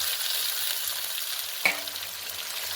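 Onions frying in a pan for a thin Bengali chicken curry, a steady close hiss of sizzling oil with one sharp clink of a utensil against the pan partway through.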